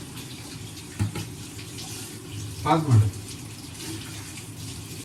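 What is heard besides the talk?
running water from a tap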